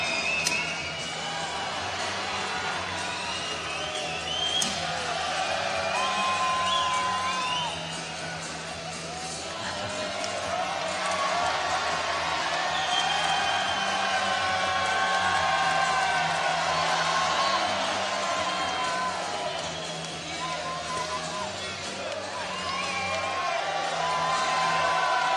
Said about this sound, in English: the crowd are calling out that they want some free prizes